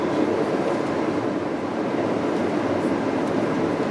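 A long Odyssey passenger train rolls into a station with a steady, broadband rumble and rush, continuous and close, with no talking.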